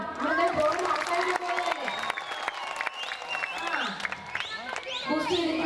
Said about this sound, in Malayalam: ഞാൻ നന്ദി പറയുമ്പോൾ അതിൻ്റെ ഒരു കൈയടി ആവാം